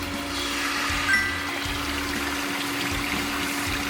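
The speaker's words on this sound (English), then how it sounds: "Okay, this is the backwash process. The backwash happening now." Backwash cycle running on an air scouring water filter, steady rushing and trickling water with a low pump hum and a constant tone, moderately close.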